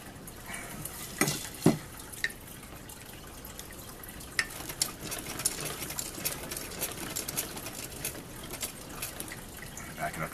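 Sewing machine forward-stitching a mess kit retaining strap, a quiet, close whirring run with light clicks and a couple of sharper knocks, no talk.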